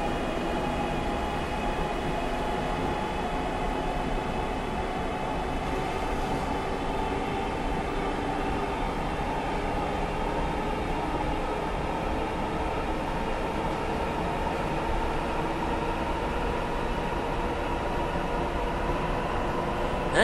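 An Acela Express train runs on the Northeast Corridor between 30th Street and New York in Train Simulator Classics, giving a steady, loud, unbroken rumble and rolling roar with faint high hiss throughout.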